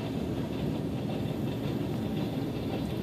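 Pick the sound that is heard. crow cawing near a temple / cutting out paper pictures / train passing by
train passing by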